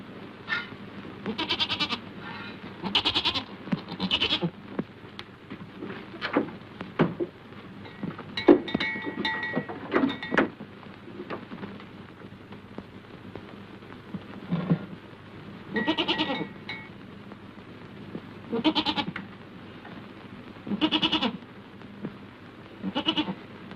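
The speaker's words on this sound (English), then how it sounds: "I think you're a beautiful goat." Goat in a farmyard setting in the European Alps bleating repeatedly, a series of loud nasal bleats spread across the span at irregular intervals, close to the listener with no talk over them.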